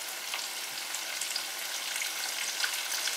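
Chicken fingers and vegetables sautéing in a pan, a soft continuous crackling sizzle with light hissing bursts, fairly quiet and steady throughout, no voices.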